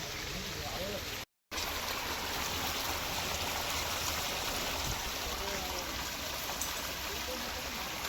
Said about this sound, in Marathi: तरी बी खत्री पाणी प्रेशर मारलेलं आहे बघू शकता